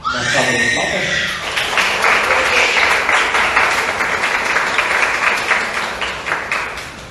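A church congregation applauding after a baptism at a divine service, a sustained, loud wash of clapping that fills the room, with a voice speaking over its opening moments.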